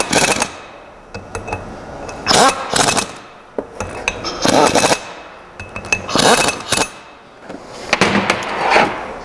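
Metal clinks and clanks while a ring gear is fitted and bolted onto a differential spool, sharp irregular taps and knocks of steel parts and bolts coming in bursts, close and fairly loud.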